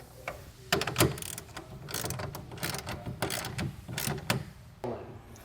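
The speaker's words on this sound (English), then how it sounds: "Now we'll add our washer nut to the bottom side. And come back and tighten that down." A hand ratchet clicks in quick, uneven bursts to tighten a washer nut on the underside of a soft roll-up tonneau cover. The bursts are close and fairly quiet, with short pauses between them, and nobody talks.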